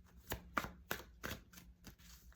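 Dishes being washed in a home kitchen, heard as a faint, irregular series of sharp clinks and clatters of crockery repeating every half second or so, with no talking.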